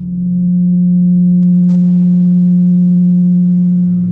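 A steady, loud 180 Hz pure tone hums without a break and holds one pitch throughout, with a faint brief click partway in.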